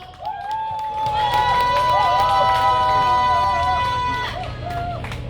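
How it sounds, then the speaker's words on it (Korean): A crowd at an outdoor anti-nuclear rally in front of Bosingak in Seoul claps and cheers steadily, with a loud, sustained roar of applause and whoops while a voice speaks over a PA system. "큰 박수로 모시겠습니다."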